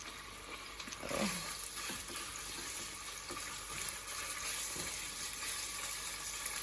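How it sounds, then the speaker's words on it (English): Chicken pieces browning in a hot pan for a chicken and spinach curry, giving a steady broadband sizzle with a few soft scrapes and knocks of a spatula, fairly close and continuous without speech. "So I'm just going to brown them here in the pan."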